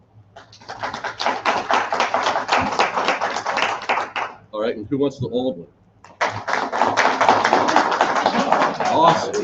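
Convention crowd at a live model Q&A claps loudly in sustained bursts, a long dense round followed by a short lull with talk, then another full round of applause.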